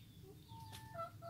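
Faint, soft clucking of hens around a nesting basket against a low background hum, a few short murmuring calls close together.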